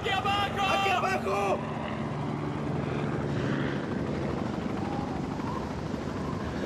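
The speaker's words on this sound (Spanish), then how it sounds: "Un helicóptero de búsqueda y rescate había pasado a metros de la cima del cañón." A search and rescue helicopter passing just above the rim of a canyon, a loud, continuous rotor and engine roar with a whining tone at first, then a broad rumble that lingers, with a voice briefly heard under it.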